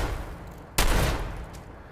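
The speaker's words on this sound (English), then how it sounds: "I can pull out a weapon and do some firing" A single loud gunshot from a weapon fired at a firing range in Fallout 4, a sharp crack with a decaying tail after a moment of quiet room tone, no voices.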